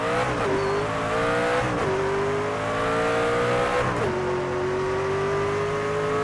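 A race car in a racing video game accelerates hard, its engine whine climbing steadily through the gears with quick shift dips, loud and close without letup.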